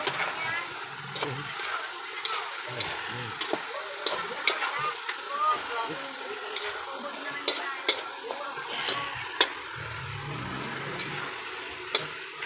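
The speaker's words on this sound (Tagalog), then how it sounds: "Siyempre halo natin yung kalabasa." Squash being stirred into adobong sitaw in a hot pan, with soft scraping strokes and a steady sizzle, occasional clicks of the utensil on the pan.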